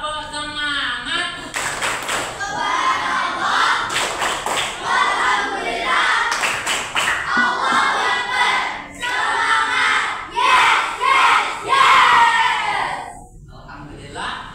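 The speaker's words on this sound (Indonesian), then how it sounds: "Tepuk semangat." Students in a classroom perform a rhythmic spirit clap, bursts of patterned group clapping interleaved with loud chanting voices, close and energetic.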